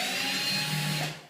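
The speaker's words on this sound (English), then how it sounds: "drill through" A power drill bores through a gyprock wall with a steady, close, high whine that holds for about a second and then winds down at the end.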